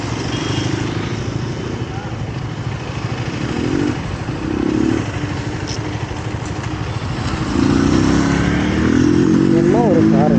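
Motorcycles gathered with bikers on a ride to Munnar rev their engines loudly, rising and falling throttle bursts over a constant rumbling idle, close and dominant throughout.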